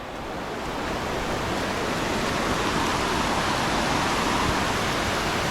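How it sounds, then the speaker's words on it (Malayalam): Water rushes steadily in a small stream near Anachadikuthu Waterfalls, a broad continuous wash that swells slightly at the start and then holds loud and even. "ആ തോട്ടിൽ നിന്ന് വരുന്ന വെള്ളം കേട്ടോ"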